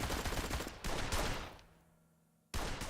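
Gunfire in the Blues and Bullets video game: a dense burst of loud shots fills the first stretch, fades into a decaying tail and near-quiet, then another loud burst breaks in at the end.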